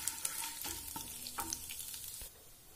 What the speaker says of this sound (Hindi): मैं उड़द की दाल ऐड करूंगा इसमें। अब इसको थोड़ा सा सेकना पड़ेगा